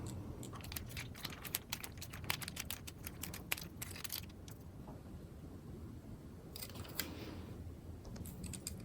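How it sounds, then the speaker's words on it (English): Parts of a low-cost bimanual robot rotor assembly being screwed together by hand: rapid, quiet mechanical clicks and ticks in quick irregular runs, with a short pause midway before more clicking resumes close up. "we're just going to screw this in."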